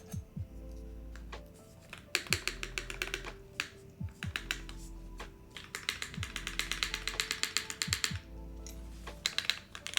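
Rapid clacky keystrokes on an LvL Type-01/80 mechanical keyboard from Artifact Industries, with several deeper thumps from the spacebar, loud and close in an uneven typing rhythm with no talking over it.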